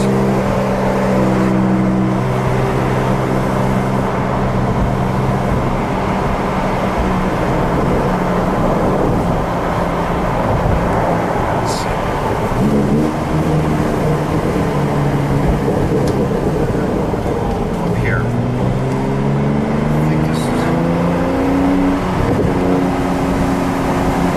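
A grey 2023 Porsche 911 992 Sport Classic with a ducktail drives along, heard from on board as a loud, continuous engine and road roar, with the engine note climbing twice as it accelerates and shifts.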